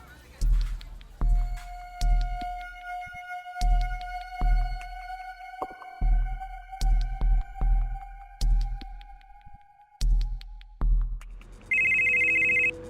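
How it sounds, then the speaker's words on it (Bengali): A telephone rings in a Bengali detective audio drama, its electronic tone recurring in short bursts across the clip over a low, throbbing background score, with no voices. "মনোজ চাকলাদারের ফোনটা এলো রাতের দিকে।"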